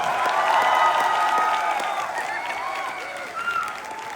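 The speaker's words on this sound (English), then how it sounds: "Let's applause to Semey Medical University." An audience at an inter-college competition claps for Semey Medical University, with a burst of loud applause and some cheering that gradually tapers off, while an announcer's voice carries faintly through the crowd.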